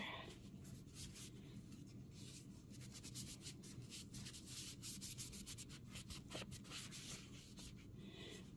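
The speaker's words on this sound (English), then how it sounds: "I'm using a baby wipe." A doll gets its stains rubbed with a Honest Company baby wipe, making a very quiet, continuous close-up scrubbing and rubbing with a slightly irregular rhythm.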